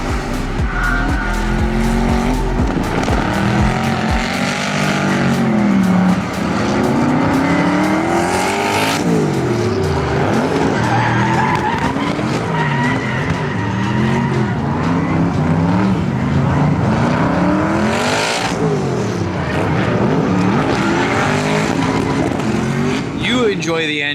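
LS-engine car drifting at an event, its engine revving hard and wailing through repeated rising and falling sweeps while tires squeal, loud and sustained throughout, with a voice faintly audible underneath.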